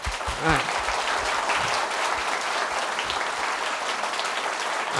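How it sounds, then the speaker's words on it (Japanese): Loud, sustained applause from a seated audience at a panel discussion on regional revitalization, a dense steady wash of clapping lasting throughout, with a brief voice near the start. "自慢ねどんどんしていただきたい方は大きな拍手でお願いします"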